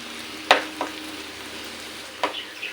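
Bottle gourd halwa stirred in a pan, a soft background sizzle broken by a few sharp scraping strokes of the spoon, close and without talk.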